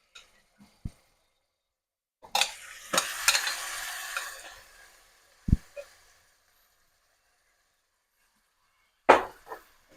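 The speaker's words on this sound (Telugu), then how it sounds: "ఈ లోపల మనము మ్యారినేట్ చేసుకున్న చికెన్ తీసి దీంట్లో వేసేసుకుందాం" Marinated chicken drops into a hot pan and sizzles for a couple of seconds before fading, while a spoon clacks and scrapes against the pan in sharp, scattered knocks.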